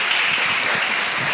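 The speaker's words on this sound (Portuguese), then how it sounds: "Aplausos." An audience at a law symposium applauds, a steady wash of many hands clapping evenly throughout, moderately loud and without speech.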